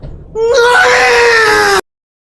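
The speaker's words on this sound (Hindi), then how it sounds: "उधर गहरी नींद सोया अजगर एकाएक चीख पड़ा।" A python character in an audio drama, woken suddenly from deep sleep, lets out a loud, sustained voiced scream lasting over a second, with a short lower whimper just before it, then abrupt silence.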